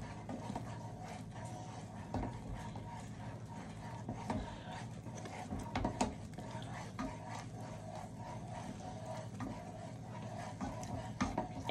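A spoon works peanut brittle around a pot with steady, slightly irregular scraping and knocking strokes, close and soft, with a low hum underneath.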